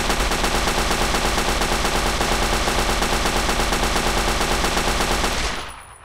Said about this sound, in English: there is now a working version of the Tippmann Gatling gun